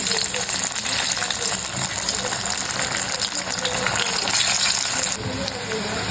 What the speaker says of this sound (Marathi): स्लो फ्लेमवर आपण हे शॅलो फ्राय करून घेऊया.